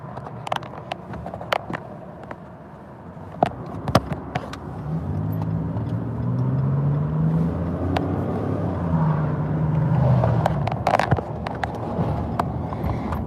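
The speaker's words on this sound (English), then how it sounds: "Yo, we in traffic now, guys." A car drives through busy road traffic, with a steady engine and tyre rumble that swells in the middle, plus scattered clicks and knocks near the microphone and no speech.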